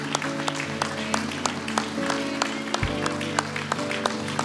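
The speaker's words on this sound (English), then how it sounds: "Let's keep clapping." Congregation clapping at a Baptism Sunday church service, a steady scatter of handclaps over sustained music and low crowd murmur.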